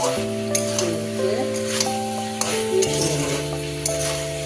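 Sajne data chorchori being stirred in a pan after raw mustard oil is added, with soft scraping and squelching strokes and light clinks over a gentle sizzle, close up, alongside a steady tonal hum.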